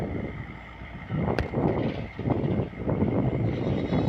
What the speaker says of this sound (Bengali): চমৎকার একটা ট্রলার আসতেছে।